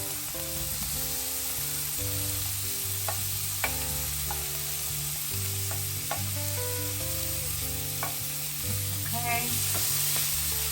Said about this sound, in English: I'm gonna put the onions and the sausages in. Let that cook up a little.